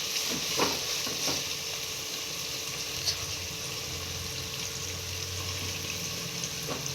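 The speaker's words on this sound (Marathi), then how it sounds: "हलवत राहायचं म्हणजे एकसारखं ब्राऊन होईल," Food sizzles and fries in a pan with turmeric and tomatoes while a utensil stirs it, giving a soft continuous crackle with light scraping taps, fairly quiet and close.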